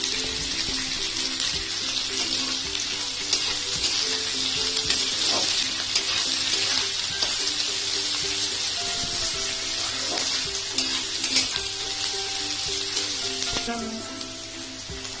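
Vegetables for veg chowmein stir-frying over a high flame, a loud continuous sizzle with stirring clatter throughout and occasional water-like hiss and scraping.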